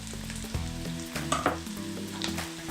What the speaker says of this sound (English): let's add our garlic to the pot